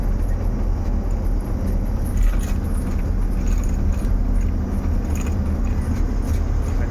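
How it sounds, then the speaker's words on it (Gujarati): A truck cruises along a highway, heard from inside the cab as a constant heavy engine and road drone, with small loose rattles and jingles mixed into the rumble. "અત્યારે જો હાઈવે ઉપર ગાડી લઈને હાલો જાઉં છું"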